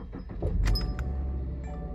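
A car is started as its keys jangle, giving a brief metallic clink and rattle over a low engine rumble inside the car, fairly quiet and close.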